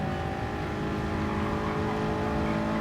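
A Toyota race car in Gran Turismo Sport at the Suzuka circuit drones at high, steady revs, a continuous buzzing engine note with layered harmonics that holds level throughout with no talk over it.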